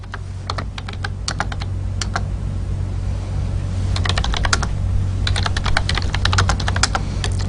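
Code being typed on a computer keyboard, quick bursts of crisp key clicks in irregular runs over a steady low hum, close and fairly loud.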